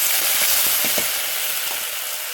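Ginger paste sizzling in hot oil with whole spices (five-spice tempering, whole dried chillies, bay leaves) while preparing a light fish curry, a steady loud close frying hiss with small crackling pops throughout, no talk.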